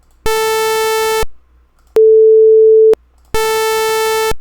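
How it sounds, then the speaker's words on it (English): Synthesized tones at 440 Hz generated with NumPy, loud and steady: a one-second buzzy harmonic-rich tone, a brief gap, a one-second pure sine tone, another gap, then the rich tone again, all alone with no talk. "the pure tone doesn't have as much color, or it doesn't have that sort of grittiness to it"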